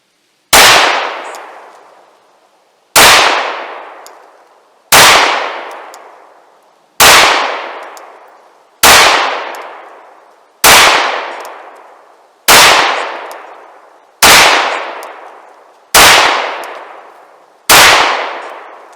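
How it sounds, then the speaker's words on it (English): Ten loud live-fire pistol shots from a gun fitted with a Mantis X10 trainer, evenly spaced about two seconds apart, each a sharp crack with a ringing decay that fades before the next; no talking. "I'm going to go ahead and throw it on live fire."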